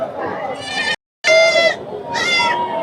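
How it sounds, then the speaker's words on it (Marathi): Osmanabadi goats at a busy goat market, giving two or three loud, quavering bleats close by in quick succession, over a background of crowd talk. "कुठल्या जाती शेळी आहे ही? ती उस्मानाबाद आहे."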